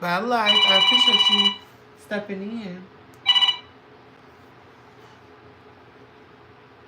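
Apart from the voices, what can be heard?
phone alarm ringing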